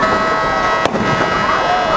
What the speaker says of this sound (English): And we just heard the cannon go off.